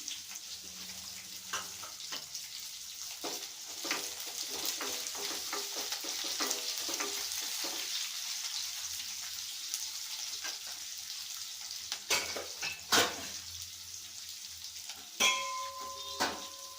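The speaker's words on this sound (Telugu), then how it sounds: "ఉల్లిపాయ ముక్కలను వేసుకుందాం." Onion pieces sizzle and fry steadily in a pan, with intermittent stirring clinks and scrapes rising near the end; no talk.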